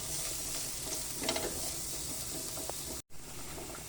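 Chopped garlic frying in a pan gives a steady, close sizzle with faint stirring scrapes, broken by one brief dropout near the end.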